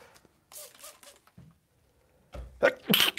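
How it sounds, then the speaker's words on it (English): A single close sneeze near the end, a sharp explosive burst after a short inhale, preceded by some soft breathy sounds. "My goodness, I think I'm going to sneeze."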